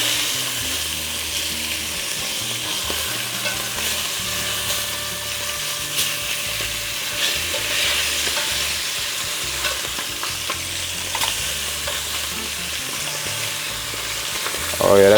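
Beef short ribs sear and brown in a hot pan, a dense steady hiss of frying fat that stays even throughout, with a brief louder clatter at the very end.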